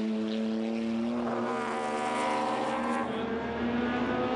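Race cars lap Hampton Downs during a 12 Hour endurance race at sunset, a Porsche among them, their engines droning loudly and steadily with a rising and falling pitch as they pass.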